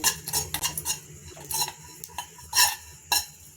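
Cumin and pepper being stirred while dry-roasting in a pan: a spoon scrapes and clinks against metal in irregular bursts, with a soft sizzle underneath, close and fairly quiet.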